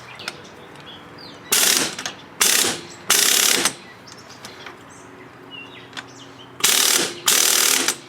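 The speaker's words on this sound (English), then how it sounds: "I have a 22mm socket on an impact gun that I'm going to take this off with" Impact gun driving a 22mm socket to remove a tie rod end nut on a 1999 Pontiac Grand Prix: five loud, harsh rattling bursts of about a second each, with short pauses between, close up and with no talk.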